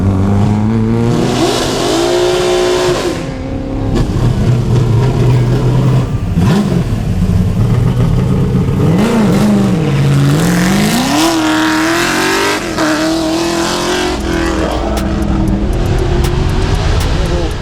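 A Ford XY Falcon historic touring car races up a hillclimb with a loud, close engine that revs and climbs through the gears, its pitch rising and falling repeatedly as it accelerates.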